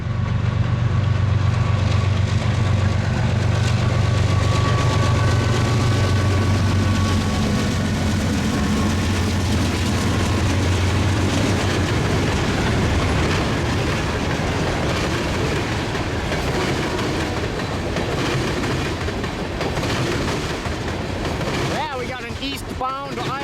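Westbound CN freight train L571 rolls past at the Cedar Falls Junction in Iowa with a loud, continuous low engine rumble and steady clickety-clack of railcars, while a voice talks briefly.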